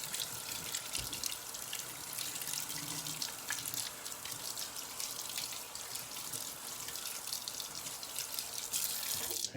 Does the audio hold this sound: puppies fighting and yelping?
no